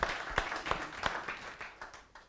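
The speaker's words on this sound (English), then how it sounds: "that deserves a round of applause." Audience applause at a panel discussion on open innovation in South Africa: a fairly faint patter of claps in a series of short bursts that gradually thins out over about two seconds.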